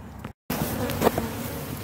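Bumblebees buzz around beehives, a close, continuous insect drone with a brief dropout, loud and steady outdoors.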